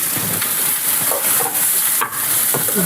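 Curry leaves splutter in hot oil in a pan for an onion palya, a loud close sizzle with crackling pops and stirring scrapes, no voices.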